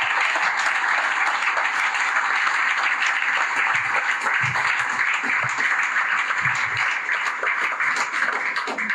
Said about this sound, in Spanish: A mí me enseñaron que a Dios se le aplaude con todo el alma.